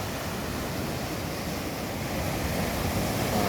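Steady broadband roar of ocean surf at a surfing beach in San Fernando, La Union, Philippines, waves washing in continuously at close range with no voices.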